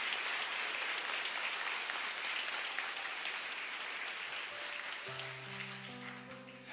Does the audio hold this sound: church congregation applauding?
yes